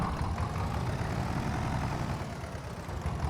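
A tractor engine in Farming Simulator 22 idles with a low, steady rumble throughout, continuous and even, with no voices.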